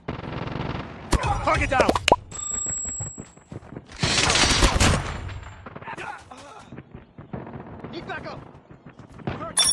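Rapid automatic gunfire from a deployed sentry gun in Call of Duty: Mobile multiplayer, with loud bursts and explosions breaking through under shouted in-game voice callouts.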